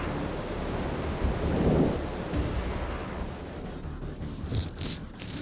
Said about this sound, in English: Big thunderstorm.